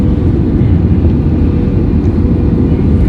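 Inside an airplane descending toward Andaman, a loud, steady cabin roar of engines and airflow fills the space without pause.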